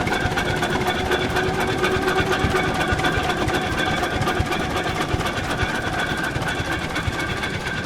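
An old antique gas engine chugs at a rural antique engine show in Dublin, New Hampshire. It runs continuously with a rapid, even mechanical clatter and steady knocking pulses, loud and close, with no voices.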